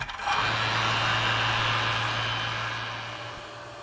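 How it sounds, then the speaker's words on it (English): A vacuum pump evacuating the A/C system of a Jeep Cherokee switches on and runs as a steady, close mechanical drone with a low constant hum, holding level for several seconds before easing slightly. "So we're gonna flip on the vacuum pump. We're gonna start vacuuming the system down."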